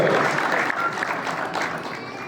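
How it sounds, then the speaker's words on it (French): An audience at a motorsport awards ceremony applauds autocross drivers, sustained crowd clapping in a hall that tapers slightly, with a voice talking over it. "on peut les applaudir et on va chauffer la salle avec ces pilotes de l'autocross"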